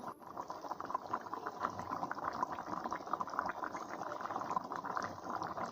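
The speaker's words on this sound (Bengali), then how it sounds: "দেখো তরকারিটা ফুটছে কি সুন্দর" A pot of curry made with gathi and bata fish is boiling. The bubbling is steady and close, runs the whole time and has no voices over it.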